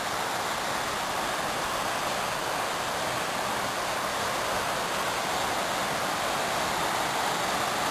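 A constant, dense roar of Latourell Falls splashing into its plunge pool, steady and unbroken, loud and close, with spray and no voices.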